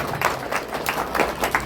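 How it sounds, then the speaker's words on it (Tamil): Audience applause at a Tamil spiritual discourse, a short burst of steady, rhythmic hand-clapping from the listeners, moderately loud and close, with no talking over it. "ஒரு நல்ல கைத்தட்டல் கொடுக்கலாமா இதுக்கு?"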